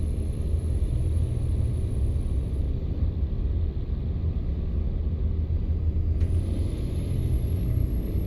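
Continuous low rumble of trucks rolling along the road in American Truck Simulator, with a steady engine drone and a brief high whine, no talking.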